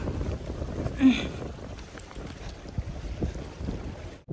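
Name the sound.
cold wind blowing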